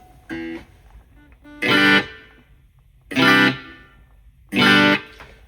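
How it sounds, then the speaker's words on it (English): Three separate distorted guitar chords ring out through a Wampler Catacombs reverb pedal on its room setting, each cut off quickly by a short, tight reverb tail, with quiet pauses between them. "So the room setting is similar to hall, right? You have a reverb."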